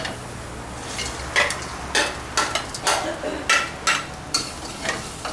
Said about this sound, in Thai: หลังจากนั้นเราก็ใส่หมูสำมันลงไปผัดนะครับ